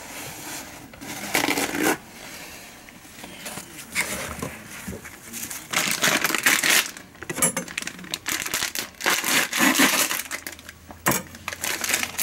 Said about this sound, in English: Here, let me grab a piece of paper towel.